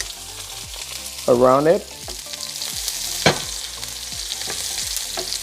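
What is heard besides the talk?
steak searing and popping in butter in a pan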